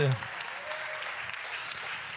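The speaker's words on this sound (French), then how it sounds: "vous pouvez déjà applaudir si vous voulez" A church audience applauds briefly during a sermon, a dense wash of clapping that fades after a moment, with a voice briefly at the start.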